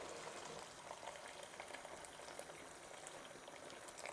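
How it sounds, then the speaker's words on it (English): Boiling water pours into a pan of potato and pea curry, a faint, steady wash of hiss and bubbling with soft crackle, heard alone without speech. "Now is when you can add in your boiling water."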